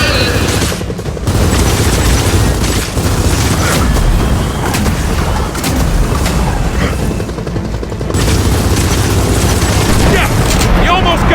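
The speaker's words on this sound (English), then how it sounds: "Rockets coming in!" Incoming rocket explosions in the video game Gears of War 4: dense, loud booms and rattling gunfire pile up almost without pause, with voices shouting amid the barrage.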